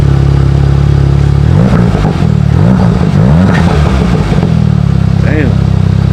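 A Volkswagen Mk7 GTI with an MBRP Pro Series exhaust revs loudly and close by, its choppy burbling blips rising and falling over a steady idle while people talk nearby.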